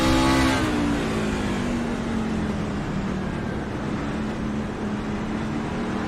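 A race truck engine drones loudly and steadily from onboard, with a falling rev at the start settling into a sustained roar and no clear gear-shift breaks, no talking.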